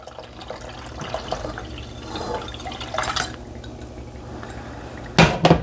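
Two cups of 2% milk pour into a pot of butterscotch pudding mixture with a soft, continuous liquid splash and trickle. Brief pot or utensil clatters come near the end.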